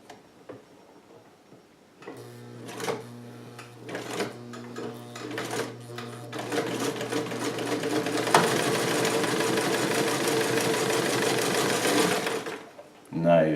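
A vintage Cool Blue Sovereign sewing machine stitching through two layers of leather, starting with a few slow stitches and then running in a loud, fast, steady whir and clatter before stopping.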